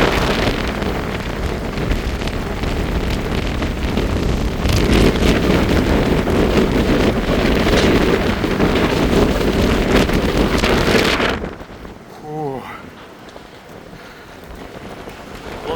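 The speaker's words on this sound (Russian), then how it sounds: "Понял, идеальный шторм." Snowstorm wind roars and buffets the microphone on the seashore at Gonio near Batumi, loud and constant with gusts, then abruptly drops to a quieter background near the end.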